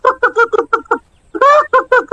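A cartoon rooster squawks loudly in a rapid run of sharp, harsh cries, falls briefly silent, then lets out a longer, strained squawk followed by a few more quick calls.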